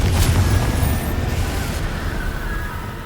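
The Confringo blasting spell goes off in Hogwarts Legacy: one loud, close burst that settles into a rumbling roar and fades over about three seconds.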